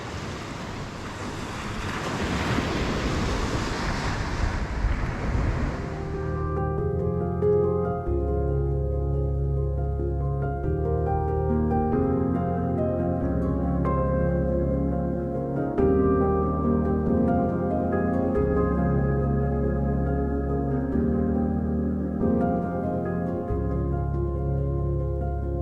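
Waves and gusty wind roar on a beach for the first few seconds, loud and close to the microphone, then music takes over for the rest.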